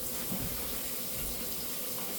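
Tap water running steadily into a sink as boiled potatoes are rinsed, a faint, even broadband hiss with no talking.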